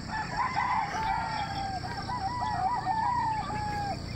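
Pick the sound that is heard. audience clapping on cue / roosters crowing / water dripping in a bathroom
roosters crowing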